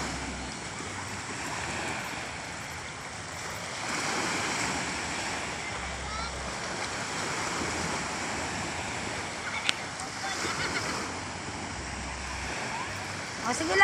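Sea waves wash steadily onto the shore at a beach, a continuous broad rush of surf with wind, moderately loud and unbroken throughout.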